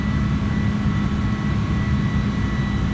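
Steady, loud drone of an Airbus A310 airliner engine in Microsoft Flight Simulator, a constant low rumble with faint tonal whine above it, unchanging throughout with no voices.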